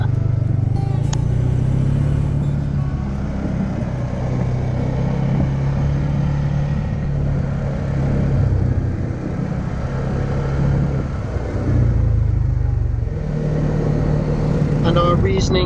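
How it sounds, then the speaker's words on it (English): Quad bike engine on Skopelos heard while riding, a steady loud motor drone with rumbling low hum and shifts in pitch, wind and road clatter mixed in, and voices talking over it. "we decided to stay in Skopelos and hire a quad bike to explore the area"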